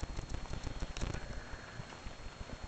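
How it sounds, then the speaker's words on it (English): Rain falling during a storm, a soft, steady patter of drops on a gazebo or nearby surfaces, faint and close, with no one speaking. "It's raining too now."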